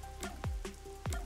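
Rain falling in the video game Rain Code, a steady patter of drops on a surface with a few heavier splashes, close and moderately loud, with no voices.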